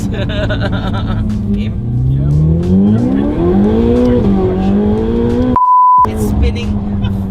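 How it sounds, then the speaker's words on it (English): A modified Ferrari 488 Pista with race exhaust revs hard and climbs through second and third gear while tires squeal in a steady, loud wheelspin, with a voice talking over it and a brief beep. "It's spinning second gear, third gear."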